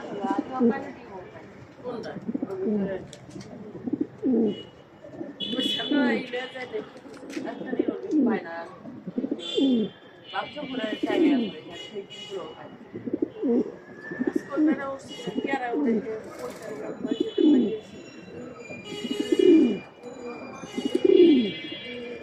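Repeated low Beauty pigeon coos rise and fall over about twenty seconds while a person talks throughout, with occasional light chirps.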